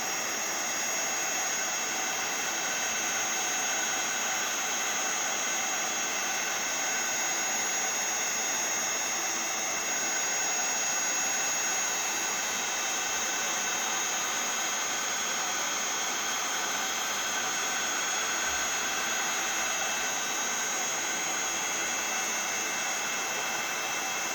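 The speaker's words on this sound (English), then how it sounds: "you want to hold your heat gun still until you see that embossing powder start to melt and change" A heat gun melts embossing powder on a handmade Christmas card, producing a steady, fairly quiet blowing whir with a constant airy hiss and no pauses or speech.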